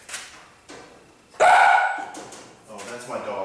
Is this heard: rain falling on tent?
no